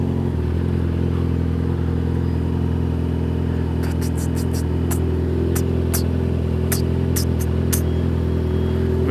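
A Yamaha XJ6 motorcycle engine runs steadily in the foreground at a constant pitch, its drone continuous and unbroken, while brief sharp ticks and clicks come in during the second half.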